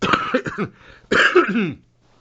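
Two close, loud bursts of coughing, a rough hacking fit followed by a second longer cough, then quiet.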